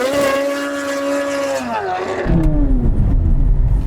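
A Dodge Demon V8 launches in a drag race, its engine roaring loud and close before the note falls away and a rushing burst of noise takes over.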